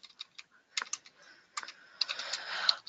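Someone types on a computer keyboard, a close series of sharp key clicks, first in scattered taps and then a denser quick burst near the end.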